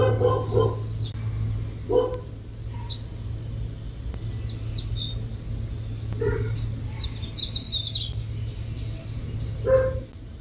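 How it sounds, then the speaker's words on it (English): A dog barks several times in the distance, with short sharp barks spaced every few seconds over a steady low hum, faint birdsong and occasional voices. "Did you hear the dog at all when you came in?"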